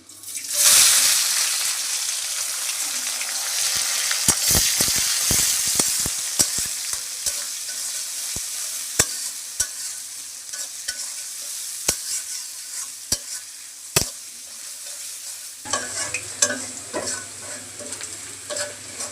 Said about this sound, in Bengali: পেঁয়াজ আর আদাটা সুন্দর করে ভেজে নিচ্ছি